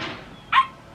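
A single short bark from a dog, clear and fairly close, over a quiet background.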